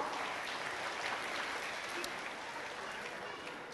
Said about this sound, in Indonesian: Mari kita tepuk tangan buat anak-anak kita.